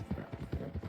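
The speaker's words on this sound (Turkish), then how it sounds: "Şu niye domuz gibi soluyor bu at?" Horse in the Red Dead Redemption II video game trotting with quick, regular hoofbeats close by, several clops per second sounding loud and clear with no voices over them.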